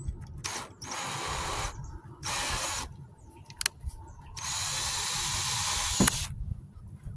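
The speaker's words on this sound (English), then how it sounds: "you take your drill and you just do this" A power drill whirs close by in several short bursts, then runs in one longer stretch before cutting off, drilling through a port during oil pressure switch work on a 2017 Chevy Equinox 2.4 engine.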